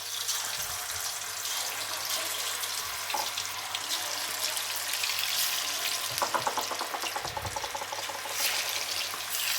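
Marinated Chicken 65 pieces deep frying in a pan of oil give a loud, continuous sizzle and bubbling, close up, with occasional soft knocks and stirring sounds.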